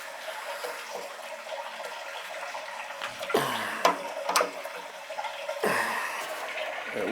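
Water runs into a 40-gallon electric water heater, a steady rushing fill with a few sharper surges and gurgles partway through, close and moderately loud.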